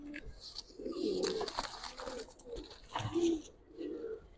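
Giribaz pigeons, a male among them, coo in repeated low throaty bursts close by, several rolling calls following one another with light rustling between.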